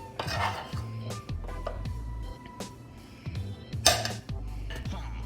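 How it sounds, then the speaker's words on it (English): Spoonfuls of stuffing drop into a pan for a hamburger dish, giving soft scraping and clinking taps of a spoon against metal, with a few sharper knocks, close up and without talk. "I'm dropping stuffing in the pan."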